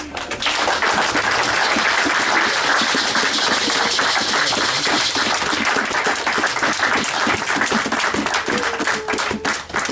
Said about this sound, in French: Je veux que tu acclames pour le Seigneur.